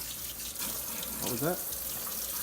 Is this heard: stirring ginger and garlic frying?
no